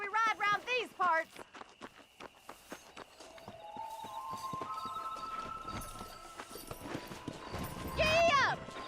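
Horse hooves clip-clopping during riding in the Red Dead Redemption video game, a steady rhythm of footfalls under game music and occasional voices, with a brief neigh or whinny near the end.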